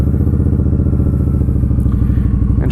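A liquid-cooled Indian Scout Bobber Sixty motorcycle fitted with aftermarket Vance & Hines pipes fires up and settles into a loud, close, steady throbbing idle, with a faint click and rattle near the end.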